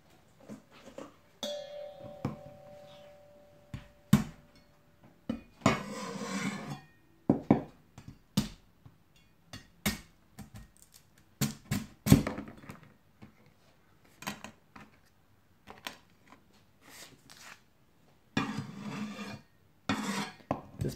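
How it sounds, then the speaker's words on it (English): Sharp butcher knife tapping down through king crab shell on a cutting board, a series of short irregular knocks and scraping rasps, close and fairly quiet, with no talking. "And you just tap it down onto the cutting board."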